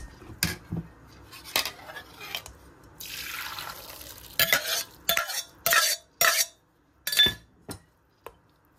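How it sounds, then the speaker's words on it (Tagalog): Cooked sago poured and drained through a kitchen strainer, with wet sloshing, dripping and a run of sharp metallic clinks and knocks against pot and strainer, close and fairly loud. "I-strainer ko lang po ito."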